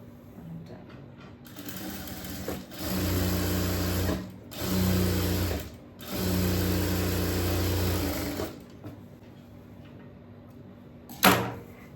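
A sewing machine stitches a blouse sleeve with lining in three loud, close bursts of rapid whirring, separated by short pauses, with a sharp knock near the end.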